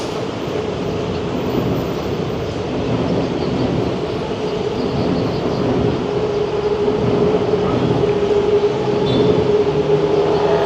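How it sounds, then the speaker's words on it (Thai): A train curving around a monument in Thailand rumbles past steadily, loud and close, with a continuous rolling roar and a faint whine running through it. "รถไฟโค้งอ้อมอนุสาวรีย์"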